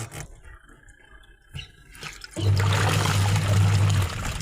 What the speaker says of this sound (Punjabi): ਹਾਂਜੀ ਇਦਾਂ ਪਾਣੀ ਪਈ ਜਾਂਦਾ ਮਸ਼ੀਨ ਆਪਾਂ ਚਲਾਉਣ ਲੱਗੇ ਆ